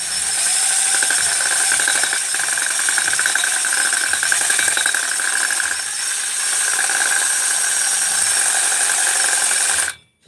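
A worn engine on a Ratty 394 crankcase runs with the muffler pulled, a loud, harsh, steady rattling drone that holds for about ten seconds, then cuts off.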